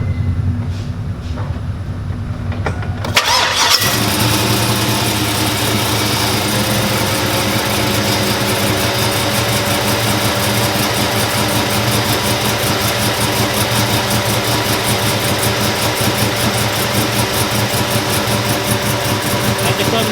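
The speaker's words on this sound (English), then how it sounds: "Let me turn it on and see if it works." A car with a faulty steering shaft cranks and fires after about three seconds, then settles into a steady, loud, close-up idle with a continuous mechanical hum.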